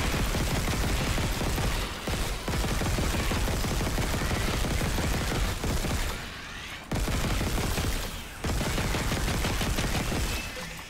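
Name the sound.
gunfire in the Dead Space remake video game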